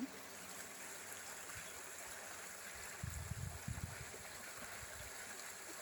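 Small stream flowing beside coconut palms, a faint steady trickle and hiss heard alone, with a few low bumps partway through.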